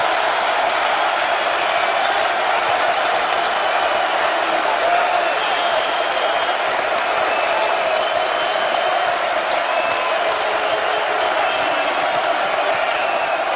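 Basketball arena crowd at a Tennessee vs Missouri game roaring and cheering steadily after Tennessee takes a two-point lead, a dense, sustained wall of crowd noise throughout.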